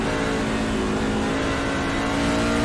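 Race truck engine at the Phoenix truck-series race, revving loud and steady as the driver drops a gear, a continuous near roar with no talk over it.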